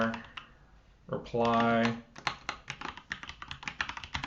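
Rapid tapping on a computer keyboard while setting up an SMS reply workflow, a quick run of clicky keystrokes following a brief spoken word, close and fairly loud.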